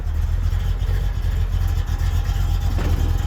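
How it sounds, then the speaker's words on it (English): A 1965 Corvette engine idles steadily and loudly up close, a constant deep rumble with no talking over it. "Just listen to this car. It sounds just like you want a Corvette to sound."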